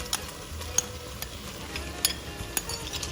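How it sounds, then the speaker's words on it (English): Prawns frying in a pan with a sauce of oyster sauce and soy sauce, a low steady sizzle broken by sharp clinks of a utensil against the pan as they are stirred. "finally we will add in our prawns"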